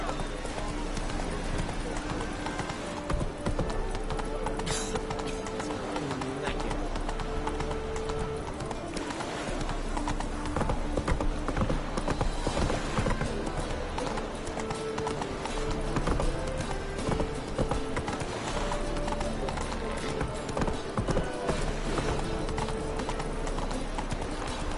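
Roach, the horse in The Witcher 3, gallops with rapid, continuous hoofbeats under dense game music and ambience, with a brief whinny and a rider's voice mixed in.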